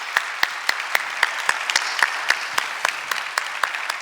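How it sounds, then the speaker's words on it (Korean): Applause in a Korean church during a Thanksgiving Sunday worship service, a congregation clapping steadily with sharp individual claps standing out over a dense wash of hand claps, fairly close and sustained throughout. "다시 한번 우리 경배의 박수 해주시기 바랍니다"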